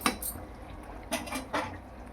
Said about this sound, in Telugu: మూత పెట్టారు